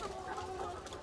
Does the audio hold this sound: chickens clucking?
yes